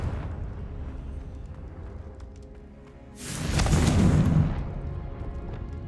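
A Confringo fire spell exploding in Hogwarts Legacy, a loud rumbling blast that swells suddenly after quiet game ambience and holds for about a second before fading.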